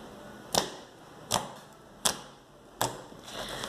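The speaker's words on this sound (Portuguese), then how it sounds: "vamos fazer o teste do clique" Slime is squeezed to make four crisp clicking pops spaced evenly about three-quarters of a second apart, close and distinct against a quiet background.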